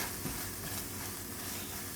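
Plant-based meat crumbles sizzle in oil in a pan, a steady, quiet, broadband hiss and crackle of frying that holds even throughout, with no talking.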